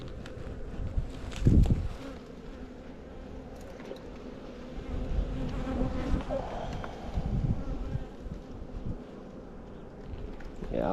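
A honeybee colony building up in its hive in spring hums with a steady, dense buzz close to the microphone, broken by a louder knock or handling thump near the start.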